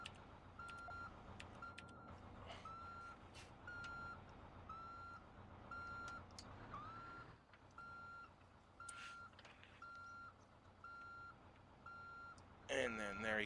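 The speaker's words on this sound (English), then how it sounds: "2 beeps." Bus in the driving game BeamNG.drive beeping repeatedly in a steady electronic pattern over a continuous engine hum, with a brief louder burst near the end.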